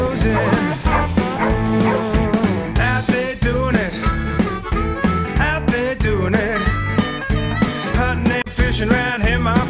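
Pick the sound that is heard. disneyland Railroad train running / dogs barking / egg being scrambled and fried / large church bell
dogs barking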